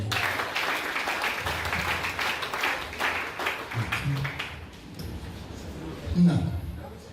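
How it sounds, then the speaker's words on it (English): Applause from an audience at an award ceremony, a steady wash of clapping that runs for several seconds and fades toward the end, with a voice speaking over it. "Another round of applause for you"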